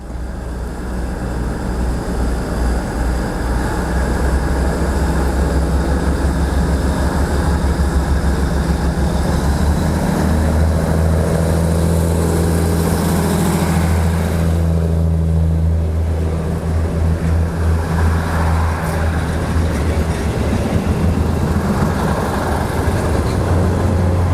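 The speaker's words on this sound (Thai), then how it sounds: "ขบวน 280 เร่งเครื่องแล้วนะ" Kiha 183 diesel train 280 pulls away from Prachinburi station, a steady low diesel drone and rumble held throughout, with a faint rise midway and no voices.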